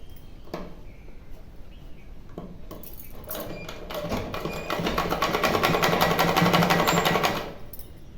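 An electric sewing machine stitches a cotton dhoti strip with a steady whirring run that builds up in the middle and stops abruptly, preceded by a few light clicks; no one speaks.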